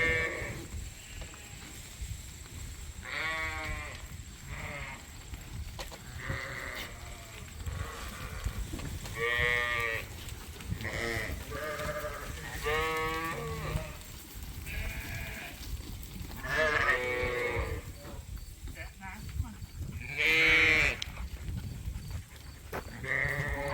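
Ewes and lambs on a sheep farm bleat repeatedly, near and far, overlapping at irregular intervals as they are moved between pens, with faint shuffling and background noise and no talking.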